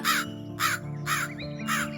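Cartoon crow cawing in a forest story, four harsh, evenly spaced caws rising clearly over a soft music bed, with no talking.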